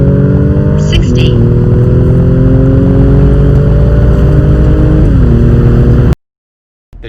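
A Mercedes C43 AMG fitted with BMS intakes accelerates hard on wet asphalt, its engine roaring loud and close with rising pitch through gear changes, then cutting off abruptly.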